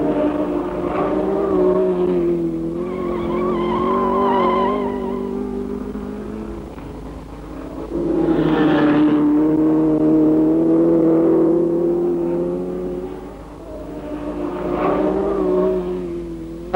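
Lotus and other 1963 racing cars at the Cadwell circuit: a steady engine drone that swells loudly as cars pass around the middle and again near the end, with no talk over it.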